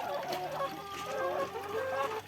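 A flock of about 35 laying hens clucks steadily and close by on a rainy day, overlapping murmurs and soft calls filling the whole stretch without pause.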